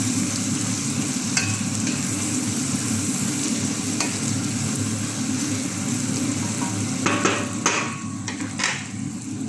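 Spices with pepper and baharat sautéing in a pan, a steady close sizzle with occasional sharp metallic clinks and scrapes of a utensil stirring, busier toward the end, with no talk.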